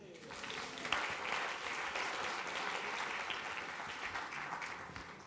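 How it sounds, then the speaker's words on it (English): Crowd applause, steady and fairly even, with clapping from many hands sustained throughout and faint voices mixed in. "Give them a round of applause."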